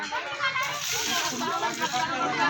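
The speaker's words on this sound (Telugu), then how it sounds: "దాని మీద నీళ్ళు పోసేసుకుంటుంది" Water is poured over a person during a wedding ritual, making a steady splashing and sloshing wash that runs throughout at moderate, close range.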